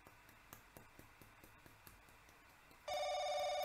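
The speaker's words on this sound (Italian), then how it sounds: "Telefono" A telephone starts ringing partway through in the video game Paranoiac, a bright electronic ring rising suddenly out of near-quiet ticking background and sustaining to the end.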